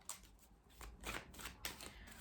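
Tarot cards are shuffled by hand in quiet, rapid bursts of riffling and sliding, several short flurries in quick succession, close and faint, with no voices.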